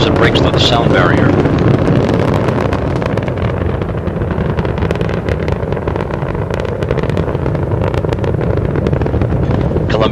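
Space Shuttle Columbia's main engines roaring at full throttle during the STS-107 launch from Kennedy Space Center, a loud continuous rumble with crackle and wind-buffeted noise, heard with a voice talking over it.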